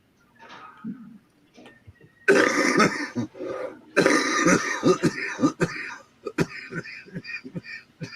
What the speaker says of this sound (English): That cough worried me